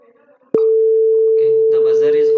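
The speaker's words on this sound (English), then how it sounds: "the buzzer is on and it displays the message program completed, remove the clothes" A washing machine buzzer sounds at the end of its program as one loud, continuous, steady electronic tone starting abruptly after a short pause, with people talking over it.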